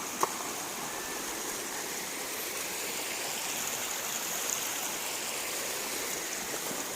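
Steady rushing of the Cijolang river, a dense continuous wash of flowing water that stays even and fairly loud throughout, with no voices and only a faint tick near the start.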